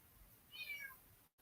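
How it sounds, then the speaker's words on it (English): A cat meows once outside, a single faint, distant mew rising and falling over quiet room noise, with no talk. "He's out there meowing, so y'all be able to hear him here in a minute"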